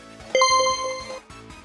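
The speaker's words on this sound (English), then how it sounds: "And there's the bell." A school bell marking the last day of school gives a short bright electronic ding with a sustained ringing tone lasting about a second, clear and close, with no talking.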